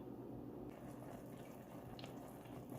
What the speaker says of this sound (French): Un tout petit peu d'eau pour permettre aux épices d'adhérer à la viande hachée.